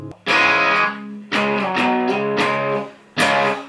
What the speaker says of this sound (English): Just more boom. The notes sustain a lot longer.